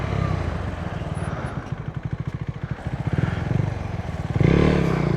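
A motorcycle on a road in Costa Rica's Nicoya Peninsula: a close, loud engine with a rapid pulsing throb that steadies into a chugging idle-like beat, then swells again with wind rush at the end.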